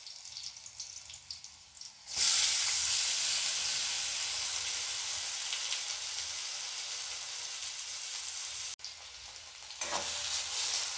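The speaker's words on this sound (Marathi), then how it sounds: "जिथे मी जो बटाट्याचा किस घेतलेला होता तो आता याच्यामध्ये टाकणार आहे परतवण्यासाठी" Grated potato drops into a hot pan with cumin seeds and green chilies for sabudana khichdi, bursting into a loud, steady sizzle that holds for several seconds before a brief break and a fresh crackle.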